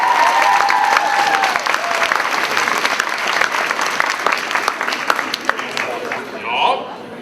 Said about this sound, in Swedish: En stor applåd för Agnes!